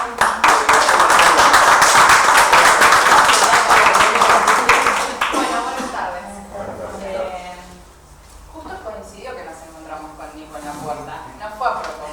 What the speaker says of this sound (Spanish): Así que bueno, la recibimos con un aplauso